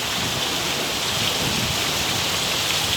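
Steady rain with strong wind on a Saturday afternoon, a dense, continuous hiss of falling water and gusts holding an even loudness throughout with no voices.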